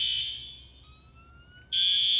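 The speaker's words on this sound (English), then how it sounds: "it's telling us that our pull station is in alarm" A DMP fire command panel sounds a steady electronic fire alarm tone with a pull station in alarm. The tone is loud and continuous, dips briefly in the middle with a short rising chirp, then returns at full strength, with no talking.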